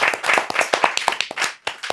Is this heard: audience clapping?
yes